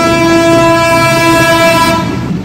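A train pulling out of Ishwardi junction sounds a loud, sustained horn blast at close range for about two seconds before it cuts off into rumbling rail noise.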